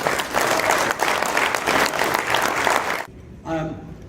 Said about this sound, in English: So please join me in a round of applause for this year's winner, Eli Villanueva.